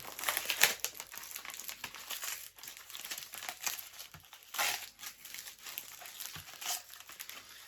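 Parcel packaging being torn and opened during an unboxing, with close, quiet crinkling and crackling of plastic and paper in irregular bursts and no voices.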